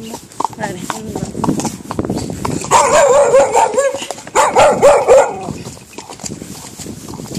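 A dog barks and yelps in a burst of sharp, tonal cries, loudest in the middle, mixed with people talking and background chatter.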